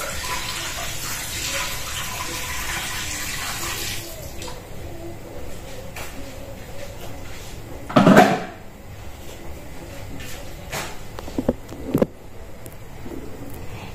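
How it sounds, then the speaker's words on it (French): Tap water running steadily into a kitchen sink for a few seconds, then cutting off, followed by quieter clinks and a louder splash or clatter of dishes nearby. "De l'eau."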